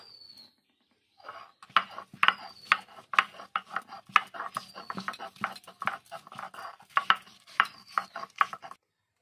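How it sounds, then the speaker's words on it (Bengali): Ginger being ground on a stone grinding slab (shil), a series of rhythmic scraping and rasping strokes of stone on stone after a short pause, close and fairly clear. "আমি এই যে সমস্ত মশলা শিলে বেটে রান্না করব। আদাটা বেটে নেব।"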